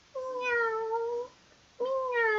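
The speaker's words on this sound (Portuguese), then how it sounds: "miau, miau. Quem era? Era o gato." A cat gives two drawn-out meows with a short pause between them, clear and close, with no other sounds.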